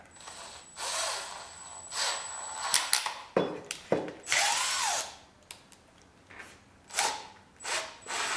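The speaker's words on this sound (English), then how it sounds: "I'm going to put a screw in here" Power drill driving a screw into a wooden shelf, several short bursts of whirring with pauses between them and ratcheting clicks, close and moderately loud.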